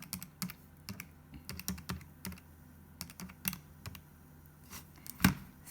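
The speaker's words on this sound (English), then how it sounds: "if I type that into my calculator" Numbers are tapped on a calculator keypad in a quiet room: a string of soft, quick clicks in irregular bursts, ending with one sharper press.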